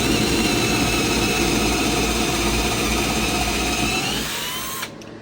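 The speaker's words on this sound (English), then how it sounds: "But you're going to take a 1/2 inch drill bit," A power drill with a 1/2 inch bit bores into a 4x4 wooden post, whining loudly and steadily for several seconds before winding down and stopping.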